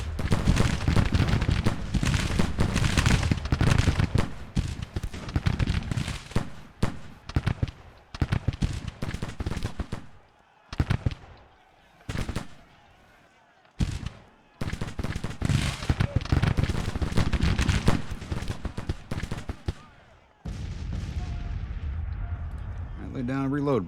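Massed musket fire from Civil War troops in Grand Tactician: The Civil War crackles in dense, rolling volleys and scattered pops, with deeper distant booms, gaps of quiet, and a voice talking over parts of it.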